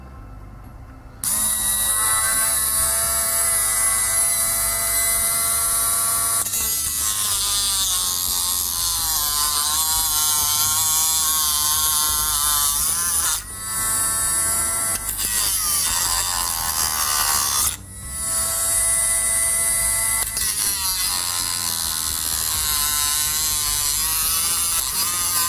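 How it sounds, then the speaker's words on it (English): A Dremel rotary tool fitted with a reinforced cutting disc grinds through metal in a loud, steady high-pitched whine, dipping briefly twice as the cut eases off before biting again. "So, on the Dremel with the reinforced cutting disc."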